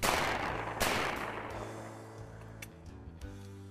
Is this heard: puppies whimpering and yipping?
no